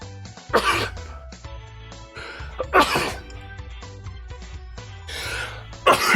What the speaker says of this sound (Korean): 어우 씨 기침이 나서 녹화를 할 수가 없네